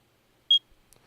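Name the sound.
proximity beep from a video game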